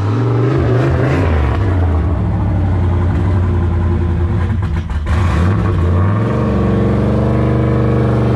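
A car revs hard and loud during a burnout test inside a shop, its engine droning and rising in pitch, briefly dipping near the middle before surging again, close and dominant throughout.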